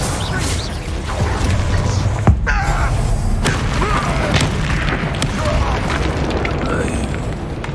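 Bombarda blasting spell in Hogwarts Legacy, a video game: loud booming magical explosions and crackling impacts amid continuous combat noise and a swelling background, with a sharp burst near the middle and people speaking over it.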